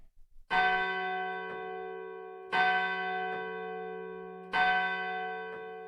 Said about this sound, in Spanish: En el momento en que se oían las campanadas de la hora